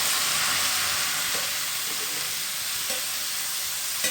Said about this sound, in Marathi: ही मिरची ना या कडक तेलामध्ये टाकून देऊ.